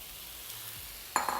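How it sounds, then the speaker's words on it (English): Grated tomato sizzles as it hits a hot pan of browned onion and garlic, a sudden bright hiss at the end after quiet background. "I'm gonna take this grated tomato and add it now, and what it's gonna do is deglaze all the bits of the onion and garlic"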